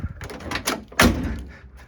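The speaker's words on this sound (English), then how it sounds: "we're going to close the door on this step" Door with a C3 door guide receiver being shut, a few soft scrapes and knocks leading into one solid thud, close by with no voices.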